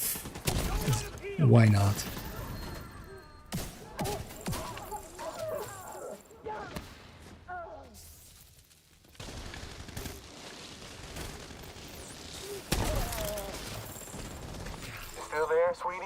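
Bursts of gunfire from enemies fighting in a video game, rapid cracking volleys and scattered single shots at moderate loudness, with a person talking over parts of it.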